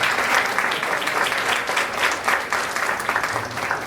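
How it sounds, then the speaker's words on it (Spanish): An audience at a literary talk bursts into loud, sustained applause, dense and steady clapping filling the room without a break. "Nos recibimos con un fuerte aplauso a Agustina."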